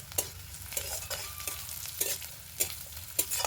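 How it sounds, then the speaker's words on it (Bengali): Chopped carrots and onions frying in a pan, a steady sizzle with repeated scraping stirs roughly every half second, close and moderately loud, no voices. "গাজরগুলো একটু ভেজে নেবে হালকা।"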